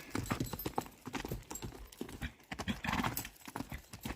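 A horse's hooves clip-clop in a quick, uneven rhythm during a training session, close and fairly faint, with scattered rustling and thuds throughout.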